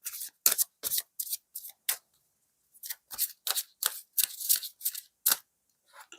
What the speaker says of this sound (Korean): 마지막으로 오라클 카드 한 장 받아보겠습니다